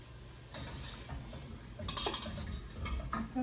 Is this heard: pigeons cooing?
no